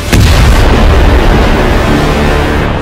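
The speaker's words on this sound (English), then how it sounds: "The Big Bang." A huge explosion sound effect for the Big Bang erupts with a sharp crack, then a loud, deep rumbling roar that sustains and slowly fades over a few seconds.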